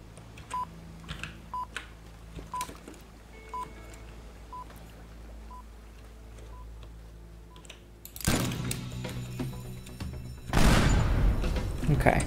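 In the video game Teardown, a run of evenly spaced electronic beeps over a quiet background gives way to a loud, rumbling explosive blast, followed moments later by a second, even heavier detonation.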